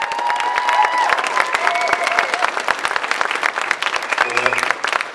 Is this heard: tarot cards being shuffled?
no